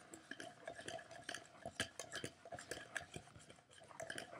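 Pancake batter being whisked by hand in a bowl, a quick run of light clinking and scraping strokes, fairly close and moderately loud, with no voices.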